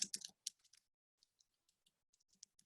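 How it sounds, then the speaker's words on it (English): A few light clicks on a computer keyboard or mouse, sparse and close, with a quick cluster at the start and then scattered single taps in a quiet room. "And now I want to type"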